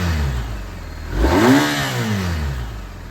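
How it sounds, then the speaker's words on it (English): A 2021 BMW R1250RT motorcycle engine idles, then is revved once, rising in pitch and falling back down to a steady idle. "I'll just give it a few revs, you can hear how she sounds."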